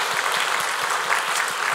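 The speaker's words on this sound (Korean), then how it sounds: "우리 다시 한번 하나님께 감사와 영광의 박수를 드리겠습니다." A church congregation applauding during a worship service, a steady dense clapping from many hands throughout.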